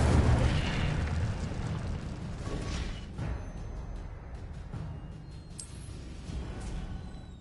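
Incendio fire spell cast in Hogwarts Legacy, a burst of roaring flame that flares loudly at the start and trails into a sustained rumbling crackle, with smaller whooshing flares later.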